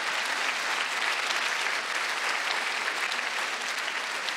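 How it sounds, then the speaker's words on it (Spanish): Steady, dense applause from a large church congregation, continuous and loud throughout without letting up. "Vamos, dale ese aplauso al Rey de Reyes"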